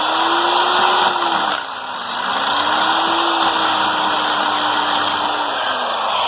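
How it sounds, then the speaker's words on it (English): A power drill whines steadily as it bores out a metal bracket on an RMX/RM250 motorcycle stator magneto repair, its pitch wavering under load and dipping briefly partway through, loud and close with no talking. "when you're drilling out metal, it'll help if go ahead and pre-start the drill before you stick it straight down on it"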